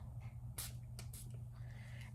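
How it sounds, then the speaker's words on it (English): Makeup setting spray gives a few short, quiet hissing spritzes in quick succession, with a soft background hum. "I'm gonna just spray some setting spray."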